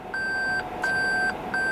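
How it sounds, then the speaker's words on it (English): Reverse warning beeps inside a 2021 Toyota Prius AWD, three evenly spaced long electronic tones repeating steadily at moderate volume with no talk. "You guys can hear the beeping that lets you know that you are in reverse"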